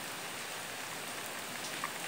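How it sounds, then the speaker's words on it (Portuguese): Heavy rain pours down in the sertão of western Bahia, heard from inside a house as a dense, even hiss of drops that continues steadily throughout with no voices. "A chuva chegou forte, né?"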